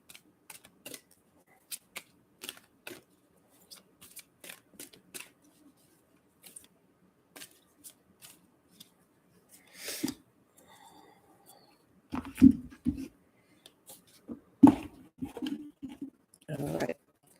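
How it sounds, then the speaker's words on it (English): Tarot cards are shuffled in soft, scattered riffles and taps, faint and irregular, with a few louder bursts of handling near the end. "we're going to go ahead and shuffle these."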